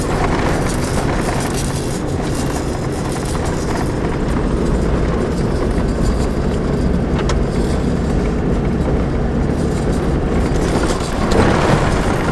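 A car drives slowly into a campsite, its steady low engine and tyre rumble close and continuous, with a brief swell in loudness near the end and no talking.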